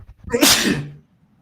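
A person sneezes once, a single loud close burst that quickly fades into silence.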